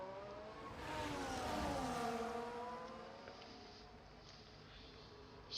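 Formula 1 cars race in the F1 24 video game at Mexico, their high-pitched engines whining past with a rising and falling doppler sweep. The pass swells loudest in the middle and then fades to a thinner drone.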